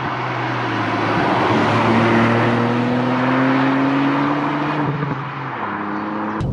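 A Ford Fiesta ST Mk8.5 with a limited-slip differential accelerates hard in second gear on an open road, its engine note climbing steadily toward about 6,000 rpm under loud road and wind noise, then easing off abruptly as a gear change comes.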